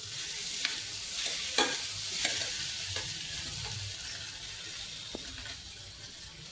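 Potatoes dropped into a pan of hot oil with a pinch of asafoetida hiss and sizzle steadily at close range, with a few scraping stirs and clinks over a continuous bright frying crackle.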